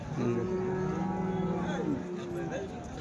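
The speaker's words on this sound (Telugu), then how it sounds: "చూడండి అన్ని జెర్సీ దూడలు అయితే ఉన్నాయి" Jersey calves lowing at a Sunday cattle market in Chintamani, several drawn-out moos overlapping up close, with crowd noise behind and faint talk.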